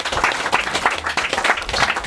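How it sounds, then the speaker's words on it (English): Audience applause greets the CEO of Ipswich Central, a lifelong Ipswich Town supporter: dense, steady clapping from a crowd that holds throughout the short burst, close and fairly loud. "Give him a big round of applause"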